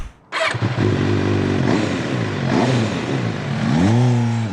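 An MV Agusta F4 sport motorcycle engine fires up and revs repeatedly, loud and close, with strong induction roar rising and falling in several blips.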